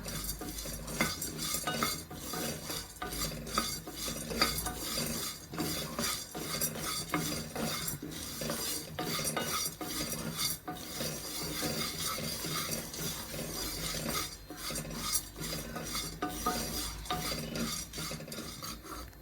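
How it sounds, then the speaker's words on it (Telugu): Chana dal dry-heated in a pan on the stove is stirred continuously, giving a close, rhythmic scraping and rattling of lentils against the metal, with a faint sizzle and no voices. "కొద్దిగా స్టవ్ వెలిగించి పాన్ పెట్టి ఈ శనగపప్పును కొద్దిగా వేడి చేసుకుంటాం"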